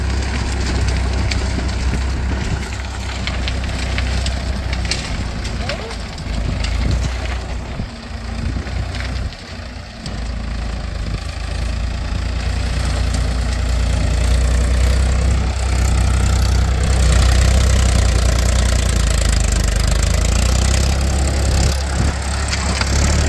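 A tractor rotavating a ploughed farm field, its engine a steady low rumbling drone that runs continuously and grows slightly louder and rougher partway through, close by with no speech over it.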